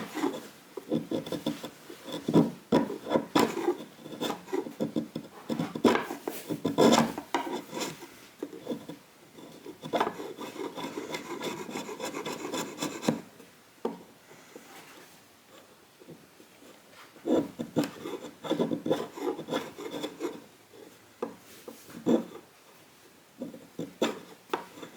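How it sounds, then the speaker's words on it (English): Steel chisel scraping hardened glue squeeze-out from a wooden guitar scarf joint on a seven-string LP-style build, with repeated close rasping strokes in bursts and brief pauses between passes. "I'm going to start out with the chisel to take the big gobs off"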